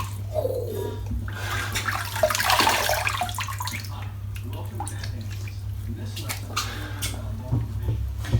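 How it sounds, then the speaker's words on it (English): A big splash of water thrown onto a face during a wet shave, a burst of sloshing and dripping water over a steady low hum, with a voice talking in the room. "So that was a massive splash of water just put on you, a shit ton."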